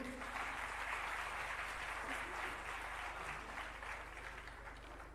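Audience applause at a ghazal poetry gathering at a literature festival in Palanpur, a dense, sustained clapping from a large crowd that carries on steadily and slowly eases near the end.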